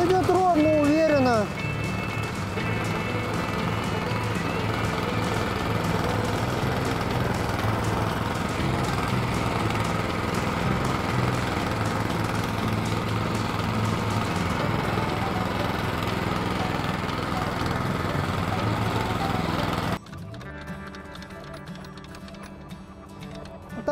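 Engine of an OKA walk-behind tractor running steadily, a loud continuous buzzing drone held for about twenty seconds before dropping to a quieter level at the end.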